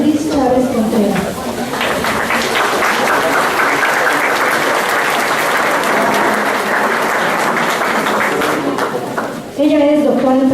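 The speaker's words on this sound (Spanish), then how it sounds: "Recibamos ahora con un fuerte aplauso" A conference audience breaks into loud, sustained applause for an inaugural talk, the clapping filling the room for several seconds before a voice returns at the end.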